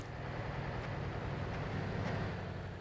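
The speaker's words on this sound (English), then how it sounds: "So I can hear an engine." Truck engine in TruckersMP, a steady low droning hum held at an even level throughout, with a faint rushing wind-like noise on top and no talking.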